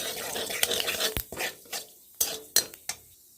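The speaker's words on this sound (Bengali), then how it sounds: "এবার আমি দিয়ে দেবো কালো জিরা, একটু নেড়ে ছেড়ে নেব" Nigella seeds stirred in hot oil in a pan, soft continuous sizzling broken by sharp metallic scrapes and clinks of a utensil against the pan at irregular intervals, nearby, with no talking.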